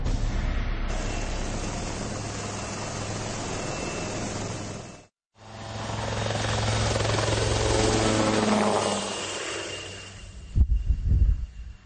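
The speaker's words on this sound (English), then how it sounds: "First ride in the helicopter" A helicopter roars loudly and steadily with whooshing rotor noise, cutting out briefly midway, then fading before a few low thumps at the end.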